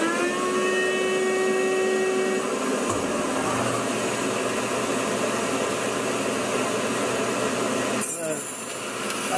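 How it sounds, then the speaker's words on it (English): A bandsaw cutting wood while a dust collector vacuum runs, giving a dense, steady whine and rush close by with a shift in tone partway through, with speech over parts of it. "The bandsaw is a little less noisy, so I cut this one out on the bandsaw."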